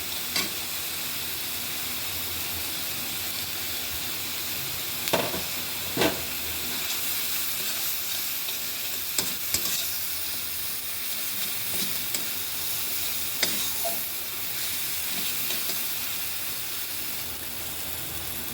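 Taro stolons with dried fish, salt and turmeric sizzle steadily in a pan: a continuous loud hiss of frying, broken by a few sharp clinks and scrapes of stirring, close up with no talking.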